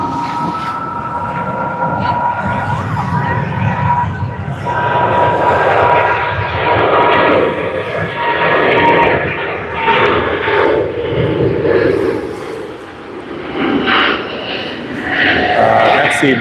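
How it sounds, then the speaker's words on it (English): A Boeing 777-300ER on its takeoff roll at Sydney Airport, a heavy jet's sustained engine roar with a steady whine, fairly loud and holding throughout, heard at a distance. "777-300ER, which has just begun its takeoff roll for its flight to Singapore"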